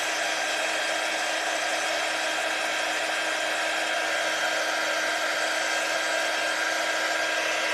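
A handheld dryer blows on chalk craft pieces with a constant, even whirring hiss that runs unbroken for the whole stretch.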